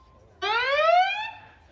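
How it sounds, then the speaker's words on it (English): At a sports game a buzzer blares once for under a second, a loud, harsh, rising electronic tone that cuts in sharply after a brief faint hum, with no talk. "there you can hear the buzzer going"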